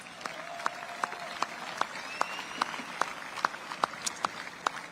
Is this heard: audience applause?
yes